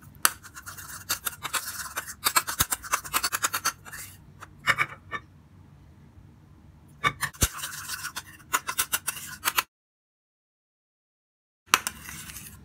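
A homemade face cream paste with vitamin E oil and water being mixed in a small bowl, heard as bursts of close scraping and rubbing strokes separated by quiet pauses.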